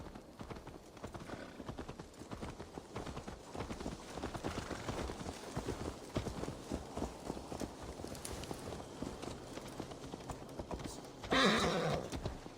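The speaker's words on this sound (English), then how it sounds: "Let's return the horse." Steady horse hooves clip-clop throughout at a walking rhythm in Assassin's Creed Valhalla, with a brief louder rustle near the end.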